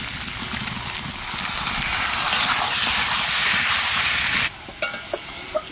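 Spiced country chicken curry sizzles and hisses loudly in a pan as tomato puree goes in, a steady broad frying roar that breaks off near the end into quieter scattered pops and splutters.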